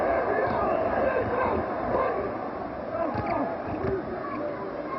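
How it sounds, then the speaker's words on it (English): Basketball arena crowd during a Houston vs Cleveland NBA game reacting to an air ball: a broad, continuous murmur and roar of many voices that stays fairly steady and eases slightly midway, with no distinct single speaker. "here's it from the crowd on the air ball"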